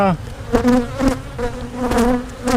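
Dense, loud buzzing of honeybees crowding a beehive, a steady droning hum with rising and falling pitch up close, as the insects swarm thickly around the frames.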